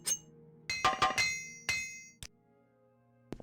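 Metallic hammer strikes from repairing equipment in the game Morrowind ring out, several sharp clinking blows in an uneven rhythm, then a lone final tap after a quiet gap.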